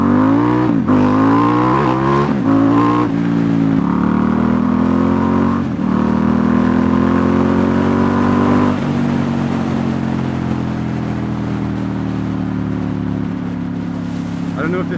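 A Ducati XDiavel S motorcycle engine idles loudly nearby and is revved with several quick throttle blips early on, then settles into a steady, slowly falling drone.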